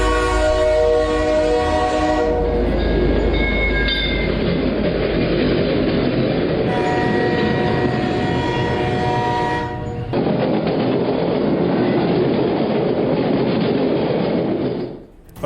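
A passenger train in India hauling a railway saloon coach rumbles past close by with steady rolling wheel noise and clatter, and long horn blasts sound near the start and again midway, with no voices.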